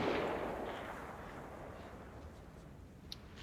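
Gunfire in the video game DayZ, opening with a loud burst that decays into a rumbling, noisy tail, then a small sharp crack near the end.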